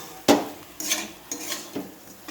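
A spoon scrapes and clinks against a pot while shema rice khichuri with turmeric is stirred, a few distinct metallic knocks and scrapes at an uneven pace, close and fairly quiet.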